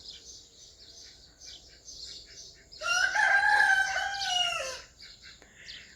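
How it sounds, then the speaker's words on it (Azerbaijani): A rooster crows loudly nearby in a village yard in Astara, one clear call in the middle, while chickens cluck and chirp softly before and after it. "Çünki toyuq cücənin səsi gəlir, qorxuram."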